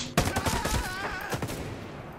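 A burst of gunfire in the video game Ghost Recon Breakpoint: a sharp opening crack followed by several rapid, closely spaced shots that ring out and fade, with no talking.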